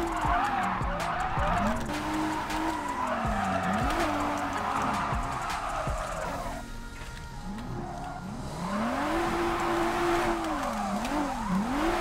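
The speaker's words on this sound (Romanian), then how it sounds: "toată acțiunea aici este legată de drifturi, cât mai multe drifturi" Tires squeal and skid continuously as a car drifts through corners in the racing video game JDM: Rise of the Scorpions, with engine revving beneath, a brief lull near the middle, then more sustained loud screeching.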